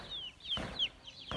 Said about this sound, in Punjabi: ਆ ਚੈੱਕ ਕਰੋ ਚੂਚੇ